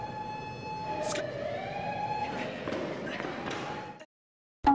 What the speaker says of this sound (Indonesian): mendadak terdengar suara sirine polisi